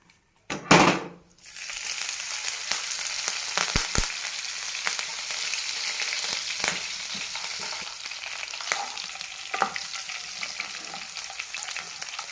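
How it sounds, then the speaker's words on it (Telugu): Chopped green chillies hitting hot oil with cumin seeds in a nonstick pan: a loud initial burst, then a steady, bright sizzle with a few clinks of a spoon, no talking. "దీంట్లోకి పచ్చిమిర్చి తరుగు వేస్తాను."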